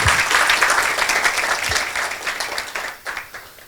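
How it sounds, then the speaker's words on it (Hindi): An audience at a bravery awards ceremony breaks into loud, close applause, with dense clapping that gradually thins and tapers into scattered claps near the end. "ताली में बहुत कंजूसी है, ताली जरा आधे मिनट की बजनी चाहिए।"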